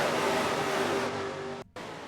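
Race car engines roar steadily in NASCAR Racing 2003 as the pack streaks down the front straightaway, a loud sustained drone that cuts out abruptly for an instant before resuming.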